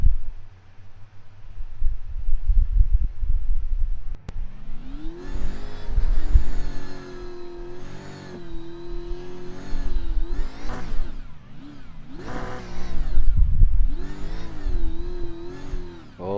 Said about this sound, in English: Yeah, I can hear the car